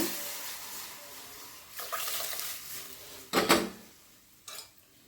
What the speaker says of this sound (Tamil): நம்ம கரைச்சி வச்ச ரசத்தை எடுத்து ஊற்றுவோம்